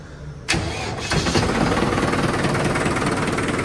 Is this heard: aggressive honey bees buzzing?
no